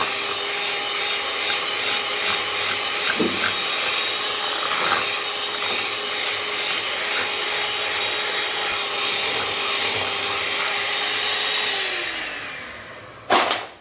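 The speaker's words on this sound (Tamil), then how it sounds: "இப்போ டபுள் ஆகுற வரைக்கும் நம்ம மிக்ஸ் பண்ணிக்கலாம்." An electric mixer beats a homemade chocolate ice cream base until it doubles, a steady close whirring hum running without pause before winding down and stopping near the end.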